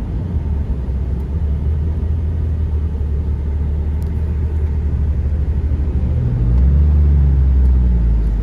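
A 2004 Dodge Ram 3500 4x4 one-ton truck with a Cummins 5.9 diesel and six-speed gearbox climbs a big hill, its loud, steady low engine drone filling the cab and deepening and swelling near the end.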